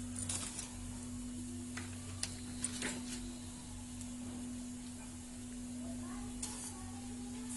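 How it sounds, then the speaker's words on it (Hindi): Vermicelli roasting in a hot pan for upma, a steady soft sizzle with light scraping and stirring clicks, close and even throughout, with a faint steady hum beneath. "अब मैं उसमें सेवई को डालकर भून लूँगी।"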